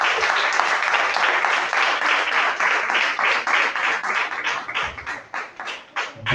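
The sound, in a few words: applause for the pastor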